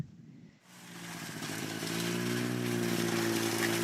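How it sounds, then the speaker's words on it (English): A snowmobile engine starts after a brief quiet moment and settles into a steady buzzing drone, close by and growing slightly louder, with no voices. "Let's take the snowmobile and pull her"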